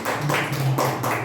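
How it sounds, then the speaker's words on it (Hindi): An open mic audience claps for Arvind ji in loose, irregular bursts, close and fairly loud, with a faint low voice hum underneath. "भाई अरविंद जी ने एक बार और जोरदार तालियां बजाई,"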